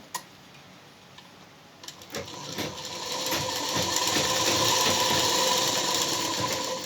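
A sewing machine runs steadily while stitching a blouse. A few clicks are followed by a rising, continuous whirring hum with rapid needle ticks, loud and close, with no talking.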